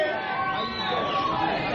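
A live crowd chants for a rapper at a Halloween stage contest, a dense continuous roar of voices with a rising and falling chanted tone, steady and fairly loud throughout.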